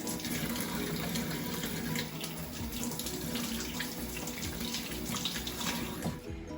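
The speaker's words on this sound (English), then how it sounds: "I'm just going to wash my hands because very important to wash your hands." Hands being washed under a running kitchen tap, a steady close splashing gush of water lasting several seconds, fairly quiet overall with irregular spattering as hands move through the stream.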